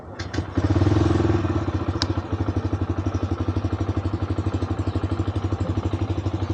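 A Bajaj Freedom CNG motorcycle engine starts with a few thumps, then settles into a steady, fairly loud single-cylinder idle with a regular pulsing beat up close, heard alone without talk.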